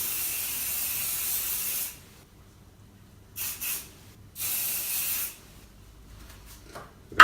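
Several short hissing sprays from a hair shine mist bottle, a long burst then a few quick pumps, close and crisp against near silence.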